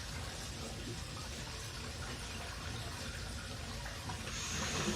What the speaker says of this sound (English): See the water coming up, float's starting to move.